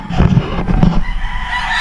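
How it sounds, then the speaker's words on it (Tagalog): Chickens on a poultry farm cluck and squawk loudly and close by, with a burst of agitated calls followed by a lingering, noisier background of birds. "ang dami pang manok niyan"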